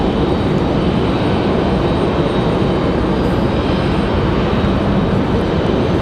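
Airbus A321 airliner at Raleigh-Durham airport, a steady, loud broadband engine roar that holds without a break, with no voices.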